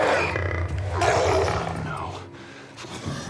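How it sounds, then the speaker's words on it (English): A bloater zombie from The Last of Us lets out a deep, rumbling roar with guttural grunting, loud and close and running for about three seconds. "What the fuck is that? The goddamn bloater!"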